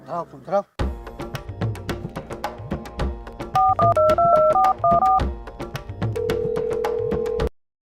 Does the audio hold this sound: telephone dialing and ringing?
yes